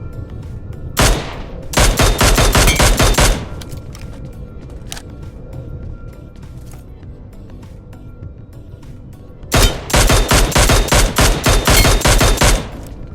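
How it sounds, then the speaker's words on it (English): PUBG Mobile gunfire comes in two loud rapid automatic bursts separated by a quieter stretch of sparse shots. A distinct headshot hit cue marks the impacts amid the firing. "by far my favorite new feature would be the headshot sound effects. You will hear a specific sound when you hit a headshot."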